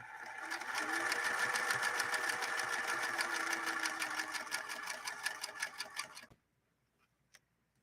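An 1872 Singer Merritt sewing machine stitching a zigzag, a fast steady mechanical clatter that runs for about six seconds and then stops abruptly, followed by near silence with one faint click.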